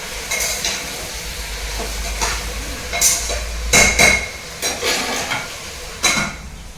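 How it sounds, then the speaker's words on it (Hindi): Masala spices are pounded for a mutton curry with irregular heavy thuds and knocks. The strikes come in uneven clusters over a steady low background hum, with no talk. "तो हम मसाला पीस लेंगे।"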